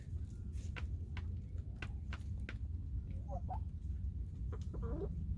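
Pet chickens cluck and murmur softly indoors in short scattered calls over a steady low background hum, with a few faint taps.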